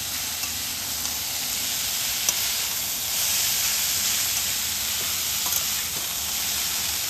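Raw papaya and drained chhana being stirred in a pan for a sweet, giving a steady soft sizzle and hiss with faint scraping throughout, no talking.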